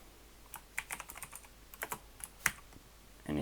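Fingers type code on a computer keyboard in quick, irregular clusters of close, crisp key clicks, with no talking over them.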